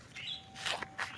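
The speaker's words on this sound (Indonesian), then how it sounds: "dengar kan suaranya, ada burung apa itu?" A bird calls briefly in the early morning, a few thin, high chirps, faint and at a distance, with a quiet background.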